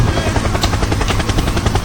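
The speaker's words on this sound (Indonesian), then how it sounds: "Helikopter." Helicopter sound effect, loud and close, with a steady rotor thump pulsing over a broad engine roar throughout, no voices.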